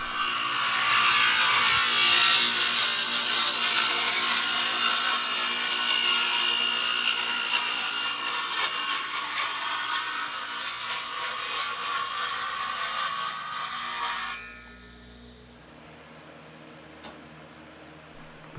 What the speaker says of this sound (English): we're going to rip the 2x4s necessary to make a second blind